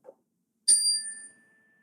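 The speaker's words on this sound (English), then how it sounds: "A great way to help them focus their minds is with a Zenergy chime." A Zenergy chime is struck once, giving a bright, clear metallic ring that sustains and slowly fades, preceded by a faint soft tap.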